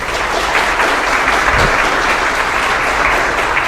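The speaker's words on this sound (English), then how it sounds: "Let's give Amanda a round of applause." Audience applause for a contestant at the 2024 Jackson County Fair royalty contest, steady dense clapping from a crowd that holds at full strength for nearly four seconds with no pause.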